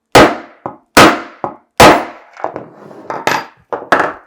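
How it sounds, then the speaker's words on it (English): A hammer taps a metal rivet into a leather keychain on a hard work surface, a series of sharp, loud, close strikes in uneven rhythm, some ringing slightly, with a brief spoken word. "go ahead and hammer it in place"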